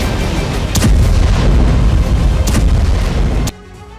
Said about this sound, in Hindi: ब्रैडली वाहन से मिसाइल हमला किया गया